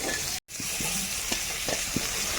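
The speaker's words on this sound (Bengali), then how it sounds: "জলপাই এখানে কিছুক্ষণ ভেজে নিলাম" Olives fry in a pan with turmeric and salt, giving a steady, close, hissing sizzle that cuts out for a moment and then returns with a few soft stirring knocks.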